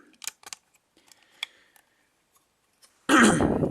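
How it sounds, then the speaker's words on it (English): A few faint clicks and light handling noises, then one loud, close cough near the end. "Sorry about the cough."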